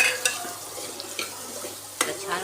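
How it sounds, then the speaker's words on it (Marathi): Red chilli powder frying in a pan for a bottle gourd curry, with scattered scraping stirs and utensil taps over a light sizzle, close and fairly quiet. "तर छान फ्राय करून घेणार आहे।"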